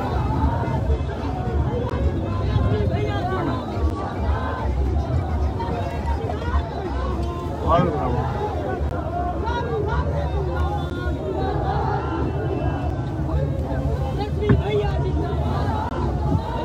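Dense crowd at Tejashwi's nomination road show, a constant murmur of many voices and shouts blending into a loud outdoor babble with a low rumble underneath, people talking throughout.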